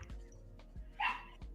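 Small dogs let out a few brief, sharp yips and barks indoors, spaced irregularly and fairly close, with one louder higher bark near the end.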